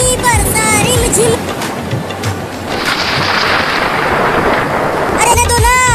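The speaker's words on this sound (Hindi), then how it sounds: "देखो कितनी तेज बारिश हो रही है" Heavy monsoon-style rain pouring down in a village, a loud, steady roar of downpour with splashing, alone in the middle and joined at the start and end by sharp chirping, whistling tones.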